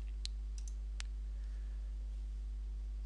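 Mouse clicks on a computer while working in Excel 2010 with Power Pivot, a few sharp isolated clicks close by over a steady low hum, no talking.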